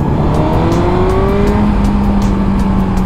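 Suzuki GSX-R motorcycle engine droning close and loud while riding through curves, a steady rising then easing tone with wind rush, continuous for a few seconds and no talking.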